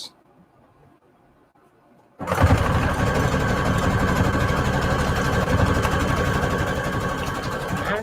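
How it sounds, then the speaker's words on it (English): A sewing machine stitching an index card collage pocket starts abruptly after a quiet moment, then runs as a loud, steady, close mechanical whir to the end. "I'm sewing this one down the middle, because why not?"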